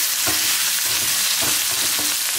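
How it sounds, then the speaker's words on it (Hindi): Green chillies for masala mirchi fry in a pan with a steady, loud sizzle, while a few soft stirring scrapes rise and fall over about two seconds, with no voices. "अभी हमारी मिर्ची ये फ्राई होने लग गई है।"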